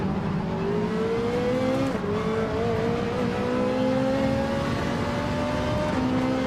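Race car engine in Gran Turismo 7 at Interlagos drones steadily near and loud, its pitch rising and dipping through gear changes and throttle shifts, with no talk over it.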